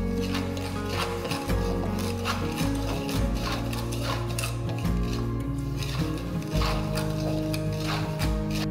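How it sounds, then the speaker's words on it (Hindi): Semolina roasting in a pan is stirred with a spoon for sweet halwa, giving a continuous gritty scraping and rubbing that repeats in quick strokes, close and fairly loud, with no voices. "तो इस सूजी को चलाते रहेंगे और एंश्योर कर लेंगे ताकि ये नीचे चिपके नहीं।"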